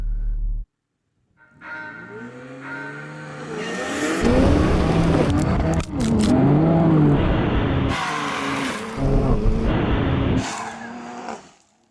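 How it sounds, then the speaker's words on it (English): A BMW X3M and a Porsche Macan GTS launch from a standstill under launch control, engines revving hard and climbing through the gears side by side for several seconds, loud and close, with a brief lull before the run. "Okay, yeah, I'm going to launch control it."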